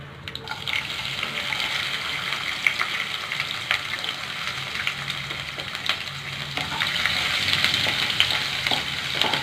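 Garlic sizzles and crackles in hot oil in a pan during tomato thokku cooking, a steady close hiss with a little stirring, continuous and fairly loud, with no talking.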